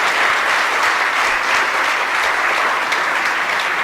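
An audience at an international conference claps loudly and steadily, a dense, even wash of applause filling the room without pause.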